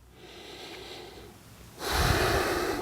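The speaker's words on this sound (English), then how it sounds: "I'm breathing in and out through my nose" Steady nasal breathing in and out during a hip mobility stretch for golf, a soft airy flow that swells into a louder, rushing exhale or inhale toward the end, heard alone and close up.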